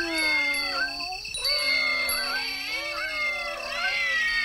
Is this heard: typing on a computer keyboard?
no